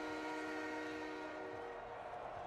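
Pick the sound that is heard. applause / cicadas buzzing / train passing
train passing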